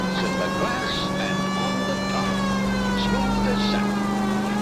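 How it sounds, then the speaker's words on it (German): Police car siren in the 1940s Los Angeles of the L.A. Noire video game, a steady wailing tone running continuously under game engine noise at dusk, with a voice talking over it. "obwohl man da mit Sirene durch die Gegend düst"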